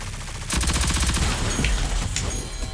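SMG gunfire in the shooter game Rogue Company, a loud rapid burst of automatic shots lasting a couple of seconds, close and alone.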